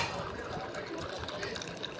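Water poured into a bowl to soak food in a home kitchen, a steady close splashing fill lasting about two seconds with a faint voice underneath.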